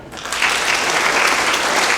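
A school auditorium audience at a TEDx talk breaks into loud, sustained applause, many hands clapping densely and steadily with no pauses.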